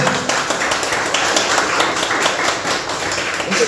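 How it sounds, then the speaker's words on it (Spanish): A church congregation claps in a dense, continuous round of applause, a steady wash of hand claps at moderate volume with no voices standing out. "Dale un fuerte aplauso al Señor entonces."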